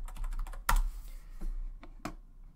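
Close, crisp keystrokes on a computer keyboard, a quick run of taps with one heavier key press and a few scattered clicks afterward, with no voices.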